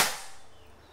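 One short, snappy discharge of a Predator Bocap Black Army Phantom PCP air rifle, a crisp close pop fading fast, with no voices.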